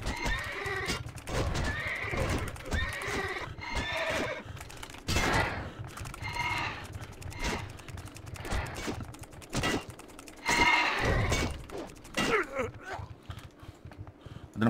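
Horses neigh and whinny repeatedly in World of Warcraft, with clip-clopping hooves and busy game sounds around them, several loud whinnies spread across the stretch.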